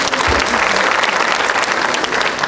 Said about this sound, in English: Let us give a performance a big round of applause again.